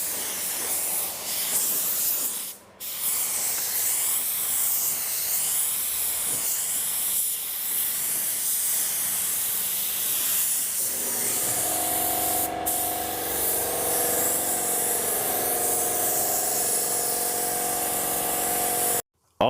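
A spray gun applying clear coat to a car panel in a garage, a loud continuous hiss held close for long stretches with brief breaks, and no talking.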